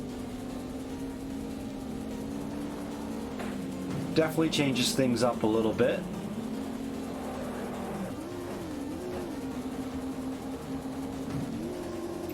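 Rally car driving through rain in the Top Gear Rally video game: a steady droning engine whose pitch rises and falls with gear changes, with a brief burst of skidding noise midway and someone talking over it.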